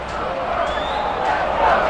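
A stadium crowd roars steadily in the MLB 2K6 baseball game, Dodgers vs Red Sox, a broad continuous cheer that swells slightly toward the end, with a commentator's voice talking over it.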